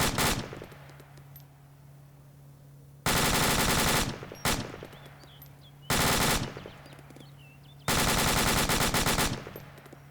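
In the video game Arma 2, loud automatic gunfire comes in four long bursts, each followed by a fading echo, with quiet gaps and faint distant shots between them.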